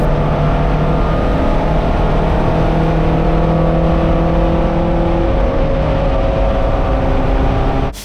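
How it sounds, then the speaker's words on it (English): A race car at The Bend endurance race accelerates down the main straight, its engine note droning loudly and steadily rising through the gears, with no talk over it. "Nick was able to put his foot down on the main straight and row through the gears"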